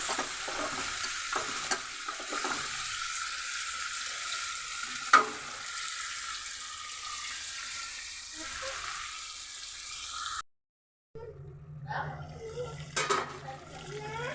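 Country chicken with plenty of ginger-garlic paste fries in a pan, giving a steady, moderate sizzle with occasional stirring knocks. The sound cuts out briefly near the end, then returns with some louder clatter.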